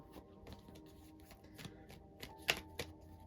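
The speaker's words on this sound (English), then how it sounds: "Let me shuffle these real quick. They're getting a little sticky." A deck of slightly sticky tarot cards being shuffled by hand, a quiet series of soft riffling flicks with a sharper snap near the end, no talking.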